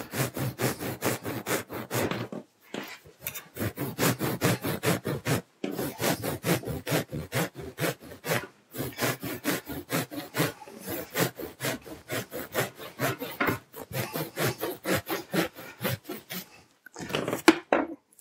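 A saw cuts at an angle through a wood-fibre Isonat insulation panel in long rhythmic strokes, close and steady, with a few short pauses and no talk.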